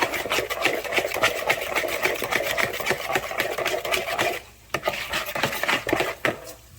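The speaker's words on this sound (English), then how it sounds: "Give it a stir." Spoon stirring sugar into a smoked pork butt seasoning mixture in a bowl, a steady run of quick scraping clinks at close range that pauses briefly midway before resuming.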